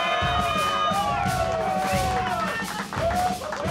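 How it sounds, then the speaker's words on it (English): A Carolina crowd cheers and yells at a chilli hot dog eating challenge, with excited voices rising and falling continuously and loudly throughout, some whoops sliding in pitch. "a Carolina crowd cheering to my right"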